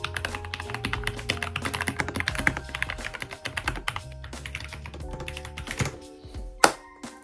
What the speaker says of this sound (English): For my keyboard, I recently upgraded my keyboard. Have a listen.